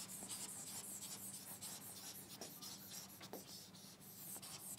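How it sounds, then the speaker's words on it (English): Eraser rubbing writing off a classroom board, a faint, continuous dry scrubbing with short repeated strokes and no talk. "I will erase this one."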